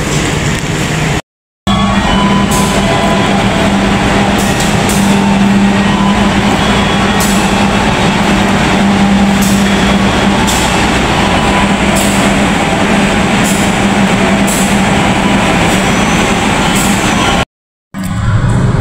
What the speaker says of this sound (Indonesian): Oke, perjalanan kereta api Progo diberangkatkan lagi di stasiun Purwokerto